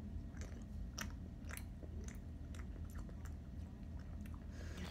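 Biting into and chewing a Milky Way chocolate bar, with soft close-up crunches and moist chewing sounds repeating every second or so over a faint low background hum.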